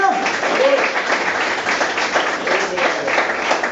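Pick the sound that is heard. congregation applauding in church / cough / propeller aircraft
congregation applauding in church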